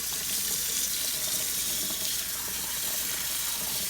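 Tap water running steadily into a kitchen sink while raw turkey is rinsed, a constant close rushing splash with no pauses and no talking.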